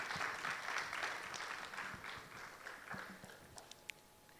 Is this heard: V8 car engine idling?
no